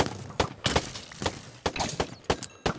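Gunfire in a modded Minecraft survival game, a series of sharp, loud shots in irregular bursts separated by short gaps, with no talking over them.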